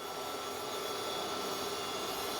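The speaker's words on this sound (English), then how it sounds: "It makes a little bit of a noise, but I think it will do." An induction heater runs under a pot, producing a steady, loud broadband whir or hiss that stays constant throughout.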